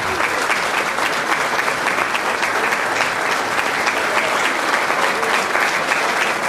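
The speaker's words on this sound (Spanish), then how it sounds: "la estamos recibiendo con este fuerte aplauso" Strong audience applause welcoming Ornella Guardati at an anniversary beauty-queen celebration, a loud, dense, continuous roar of many hands clapping without letup.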